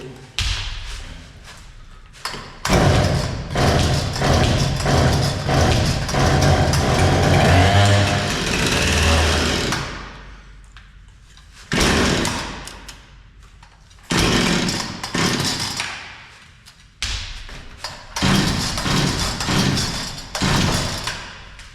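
A Husqvarna 460 chainsaw that had a stuck carburetor needle is pull-started and revved hard in several loud bursts, each dropping out between attempts, with thumps and handling noise in the gaps.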